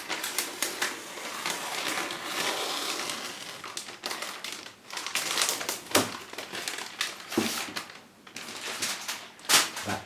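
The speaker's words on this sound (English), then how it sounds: "That's how scissors should cut." Scissors snip through material at close range in a run of sharp, irregular crisp cuts and crinkly rustles, some louder snaps standing out from the soft handling noise.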